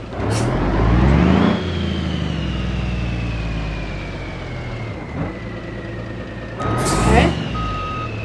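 A truck in the BeamNG.drive driving game backs up with a steady electronic reversing beep over a loud, rumbling engine drone, with a burst of revving near the start and again near the end.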